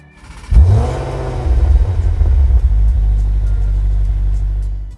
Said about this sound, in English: And now's the startup sound.